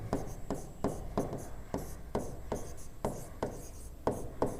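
Marker or chalk writing on a classroom board during a physics lesson, a run of quick, regular scratchy strokes, each a short rasp with a soft tap, close and clear with no talk.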